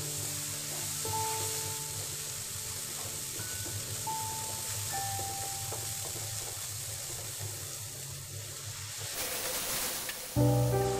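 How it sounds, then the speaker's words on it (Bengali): Spice paste of turmeric, chili, cumin, coriander, salt and ginger-garlic paste frying in a pan while cooking bele fish, heard as a steady hiss and sizzle with faint clinks, ending in a brief rush of running water. "এবার দেব হলুদের গুঁড়া, মরিচের গুঁড়া, জিরে গুঁড়া, ধনে গুঁড়া, দিয়ে দেবো লবণ, আদা রসুন বাটা। মশলাটা কষিয়ে নেব।"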